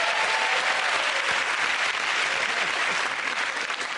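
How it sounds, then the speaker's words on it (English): Dense studio audience applause roars continuously and loudly at a TV comedy panel show recording, a thick wash of many hands clapping without pause. "Ladies and gentlemen, the round of applause go to Russell Allen"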